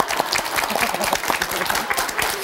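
Studio audience applauding steadily throughout at a Korean TV lecture show, a dense wash of many hands clapping at even loudness with no voices on top.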